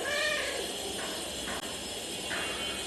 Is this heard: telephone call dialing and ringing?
no